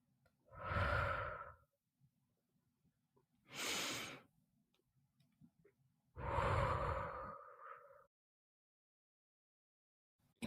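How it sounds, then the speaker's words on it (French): Three slow, deep breaths come one after another in a quiet room, each a long airy inhale or exhale with pauses between them, close to the microphone. "Je t'invite à fermer les yeux et à prendre 4 grandes respirations."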